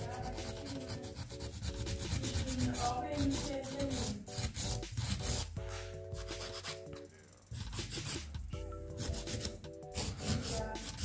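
A nail file rubs back and forth on a gel nail up close, a steady dry rasping in short repeated strokes with a brief pause, while a voice talks faintly in the background.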